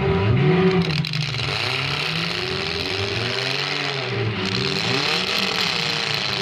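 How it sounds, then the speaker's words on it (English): A demolition derby car revs hard at a fall heat on the Adirondack International Speedway, lining up to ram another car. Its engine rises and falls through close, loud accelerations, with other motors rumbling around it. "Here comes Palmerville. He's lining him up."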